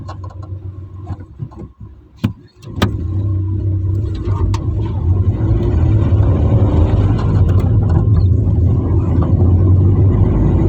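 A manual car shifting up into third gear while driving at about 55 km/h, a brief clunk and lull as the gear changes, then a loud, steady engine rumble as it pulls away.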